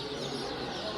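Chickens at the Bursa poultry market cluck amid a dense, noisy crowd background, a brief stretch of overlapping bird calls without clear speech.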